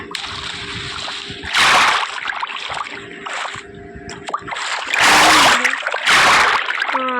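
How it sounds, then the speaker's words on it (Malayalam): Several loud splashes of a Minecraft character plunging into water, with quieter sloshing and game-like effects between them. "അപ്പോൾ നേരെ വെള്ളത്തിൽ ചടിക്കുക"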